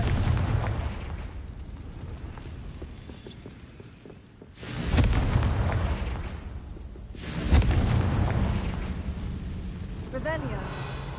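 Confringo fire-blast spell cast in a Harry Potter game on PS4, producing two loud booming explosions a couple of seconds apart, each trailing into a rumble, with a voice present in the mix.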